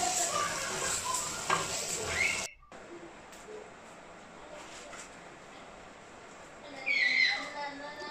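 Potatoes stirred into a pan of frying masala spices, with a steady sizzle and scraping stir strokes that break off for a moment, then come back louder near the end.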